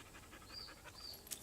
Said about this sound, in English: What's a little dog doing?